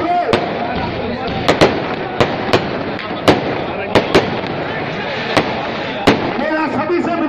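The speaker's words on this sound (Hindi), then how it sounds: "गांधी चौक पर आतिशबाजी" Fireworks burst over Gandhi Chowk ahead of a political rally, a steady run of loud, sharp cracks and pops about every half second over a dense crowd roar with voices mixed in.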